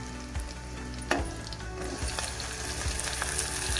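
Tomatoes drop into onions already frying in a pan, raising a steady close sizzle with a brief louder hiss near the start and a few light stirring scrapes, and no voices.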